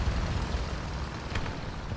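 A plane drones overhead in the tank battle game War Thunder, a low, steady rumbling engine hum with a faint airy hiss, heard alone without talk.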